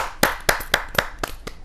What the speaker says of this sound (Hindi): जोरदार ताली के साथ राकेश रतन जी का स्वागत है।